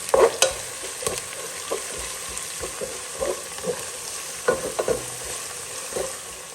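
Onions with ginger garlic paste sizzle softly in a pan while a spoon stirs them, giving repeated scraping knocks over a low frying hiss, close and fairly quiet.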